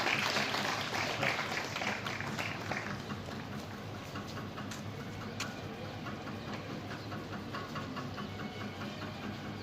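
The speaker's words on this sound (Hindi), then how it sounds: "जोरदार तालियों के साथ स्वागत करो बच्चों" At a school prize-distribution ceremony for Hindi Fortnight, a crowd of children applauds with dense, continuous clapping that stays fairly loud and steady.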